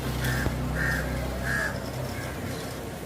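A crow brooding on its nest caws three times in quick succession, then once more faintly, over steady outdoor background noise.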